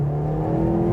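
A 2023 Mercedes-Benz C43 AMG on a test drive gives off a steady engine whir and hum heard from inside, with a low tone slowly rising, moderately loud and without talk.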